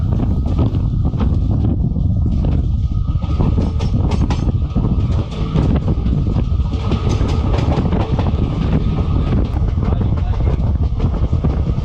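The Sabari Express runs through Tripunithura railway station without stopping, giving a loud, steady rumble of wheels and carriages with rhythmic rail clatter throughout, heard from on board.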